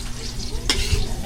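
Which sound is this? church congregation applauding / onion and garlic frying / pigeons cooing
onion and garlic frying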